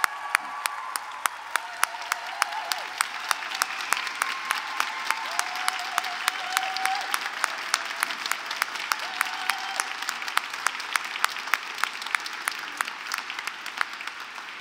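An audience at a Carols by Candlelight concert applauds steadily for several seconds, a dense wash of many hands clapping, with sharp individual claps standing out throughout.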